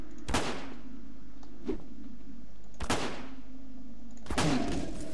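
Four sharp, loud gunshots from a pistol in the video game Garry's Mod, each a hard crack with a short decaying tail, spaced unevenly about a second apart over a low background hum.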